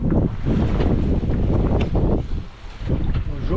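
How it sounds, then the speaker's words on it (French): Strong wind buffets the microphone aboard a sailboat sailing solo off Senegal in about 11 knots of headwind, loud gusty rumbling with water sounds beneath. "Je profite du vent. Il y a 11 nœuds là, bien dans le pif."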